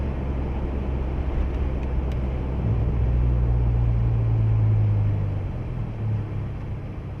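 A 2023 Ford Bronco Heritage with the 2.3L EcoBoost engine and a FlowMaster FlowFX muffler gives a steady, mellow low drone from inside the cab, swelling slightly midway and easing off toward the end.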